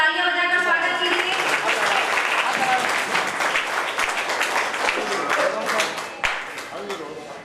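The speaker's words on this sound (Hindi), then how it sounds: "तालियां बजाकर स्वागत कीजिए" An audience at a school retirement ceremony in Malakhera claps to welcome a guest, a loud, steady round of applause with a voice speaking over it early on and a few sharp knocks near the end.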